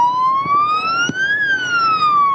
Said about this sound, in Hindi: ये एम्बुलेंस का हारन है।